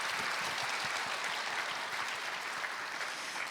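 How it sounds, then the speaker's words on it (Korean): Audience applause at a church youth talk event, a dense, even burst of many hands clapping, loud and sustained throughout. "힘찬 시작을 위해 박수 부탁드립니다"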